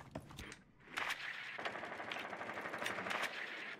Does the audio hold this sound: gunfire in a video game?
yes